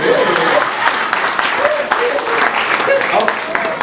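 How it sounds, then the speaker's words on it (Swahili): A seminar audience claps together in a dense, steady wash of applause that stays loud and fairly even for the whole stretch, with some voices mixed in underneath. "Makofi kwake."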